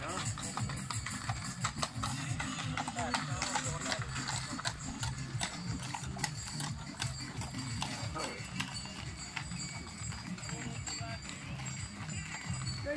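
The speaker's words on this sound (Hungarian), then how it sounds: "Ló ott van." Horses pull carriages in a grape harvest parade, their hooves clip-clopping continuously at a steady walking rhythm, with crowd chatter and voices mixed throughout.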